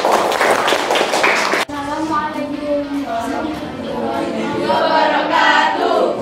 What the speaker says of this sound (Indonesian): Kita beri tepuk tangan yang meriah dulu dong